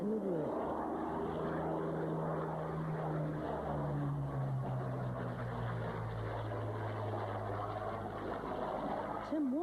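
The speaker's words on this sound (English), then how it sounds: "The RAF sends its Hurricane, one of 3 left flying in the world." A Hawker Hurricane propeller fighter flies past during an aviation display, its engine drone rising and falling as the pitch sweeps downward; the continuous roar fills the scene and a voice talks over it.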